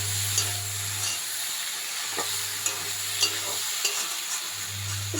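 Bean and potato curry fries in a pan over a medium gas flame, with a steady sizzle and scattered scraping taps of stirring. A low continuous hum runs beneath it and drops out partway through.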